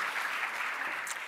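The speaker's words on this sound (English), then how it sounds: "give him an applause." An audience at a memorial gathering for Barbara Bush gives a steady, dense round of applause, continuous and fairly close throughout the brief moment.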